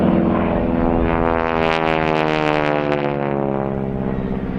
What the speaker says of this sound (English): this is a Harvard 2B model, which is today operated by Hurricane Heritage and Westland Aero Club and Whitehall Public Partnership